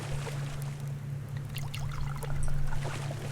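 Plants being watered in the survival game Subsistence: a steady splashing pour and trickle of water runs continuously, swelling slightly toward the end, over a constant low electrical hum.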